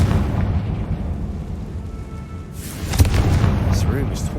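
Confringo blasting spell from Hogwarts Legacy erupts as a loud, deep boom with a crackling burst, rising over a steady rumbling game backdrop and peaking sharply partway through.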